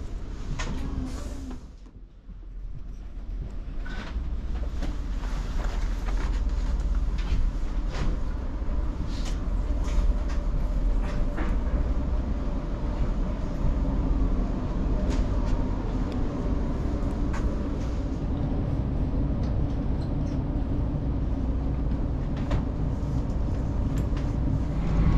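A steady low rumble and rattle inside a moving train between Gothenburg and Skövde, Sweden, after a brief clunk, with faint creaks and rhythmic knocks throughout.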